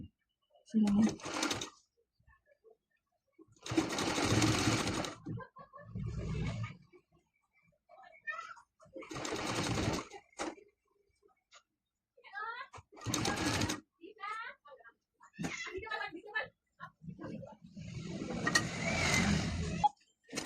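A sewing machine stitches the neck design of a blouse in several short, loud bursts separated by pauses, each run whirring steadily for a second or two before stopping.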